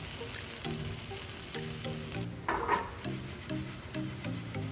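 A pancake sizzles in a pan after being flipped, with a steady, soft frying hiss running beneath background music throughout.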